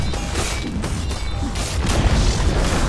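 Dota 2 tower under attack and collapsing, with dense, continuous mechanical clatter and low booming impacts that swell toward the end, with no voices.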